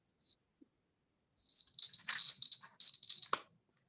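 A homemade earthquake alarm on a school science exhibition model beeps in short, shrill, repeated bursts when shaken, loud and close with brief gaps between them.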